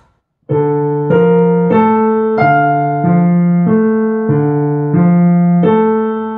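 Piano chords from the first bar of Schubert's Serenade played with both hands, about ten evenly spaced strikes with bass and upper notes sounding together, each ringing into the next, clear and close.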